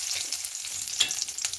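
Bay leaves and raisins fry gently in ghee in a kadai, giving a quiet, soft sizzle with faint crackles and small stirring ticks, no voices.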